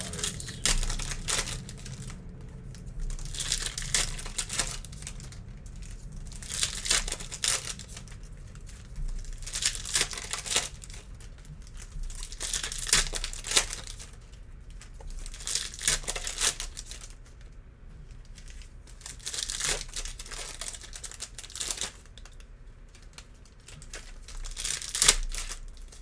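Foil wrappers of 2020/21 Mosaic Basketball card packs being torn open and crumpled in repeated bursts of crinkling and ripping, close and fairly loud, with no voices.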